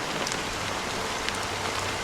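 Steady rain falls in Honkai Star Rail's dreamscape of Penacony, a dense, even hiss of drops on surfaces with a faint low rumble beneath, continuous and close throughout.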